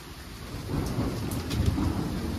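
Heavy rain and hail pour down during a thunderstorm, a dense steady hiss with a deep rumbling undertone of thunder that swells slightly midway, loud and continuous with no voices.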